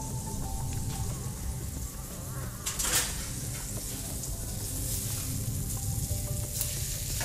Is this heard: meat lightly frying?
yes